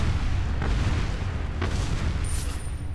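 An explosion in the Resident Evil 4 video game, heard as a dense, rumbling boom that fills the whole moment with sharp blasts crackling through a loud, sustained roar.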